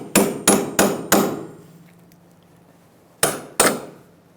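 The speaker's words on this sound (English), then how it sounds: "We got to take this center cap off right here. Now you can use a screwdriver or a little punch." Rear wheel hub center cap on a 2000-2007 Ford Taurus 3.0L V6 is tapped with a punch-style tool: four quick sharp metallic knocks, a pause, then two more, loud and close.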